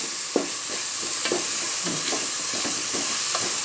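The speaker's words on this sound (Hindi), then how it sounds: "अब मैं इस सब मसालों को थोड़ा टाइम भूनूंगी और उसमें गोश्त डालूंगी।" Whole spices and garam masala sizzle in hot oil for a Konkani mutton akhni. Stirring strokes scrape the pan in a repeated rhythm, with sharp spoon taps over a steady frying hiss, heard close up.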